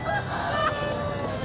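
Chickens cluck and crow at a busy Sunday bird market in Lahore, a steady layer of poultry calls at close range with a faint murmur of background noise.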